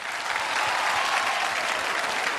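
A live award-show audience claps steadily for Dada's sari during a vote, a dense, continuous burst of applause with no break across the whole moment.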